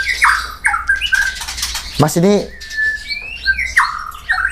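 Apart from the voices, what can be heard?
white-rumped shama (murai batu) bird calling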